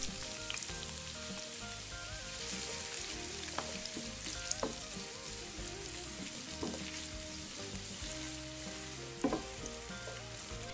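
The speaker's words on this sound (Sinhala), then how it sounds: "සුදු ලුණු ඉඟුරු ටික හොඳින් තෙම්පරාදු වුණාට පස්සේ මම මේකට කපාගත්තු කැරට් ටික එකතු කරනවා." Chopped carrots fry with garlic and ginger in a pan for white sauce pasta. The sizzle is steady and fairly quiet, broken by a few sharp stirring clinks, with no talking.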